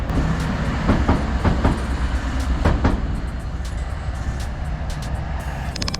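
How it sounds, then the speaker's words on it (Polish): A train rumbles past nearby with a steady roar and scattered clanks and clicks from the wheels, a constant wash of noise throughout. "ale jedzie pociąg"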